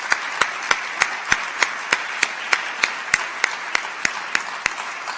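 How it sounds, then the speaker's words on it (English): An awards-ceremony audience applauds the year's finalists for the Secretary's Award for Corporate Excellence, a steady wash of crowd clapping with one sharp, evenly spaced clap standing out close by. "I'd like to also extend an applause to this year's finalists"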